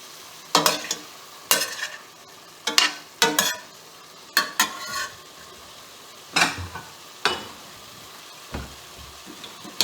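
A pork chop is stirred while it fries in a pan, with about nine sharp scraping strokes over a low sizzle, spaced irregularly and close by, with no talking.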